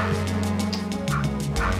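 Dogs in the Minecraft video game whimpering and yipping in a rapid series of short, close, clear cries over steady game background sound.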